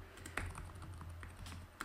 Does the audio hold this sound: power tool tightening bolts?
no